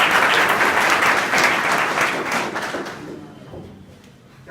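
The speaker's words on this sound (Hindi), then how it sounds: "ताली बजा दीजिए।" Applause from students in a school hall at an intermediate college, a loud, dense burst of many hands clapping that holds steady, then thins and fades out over the last second or so.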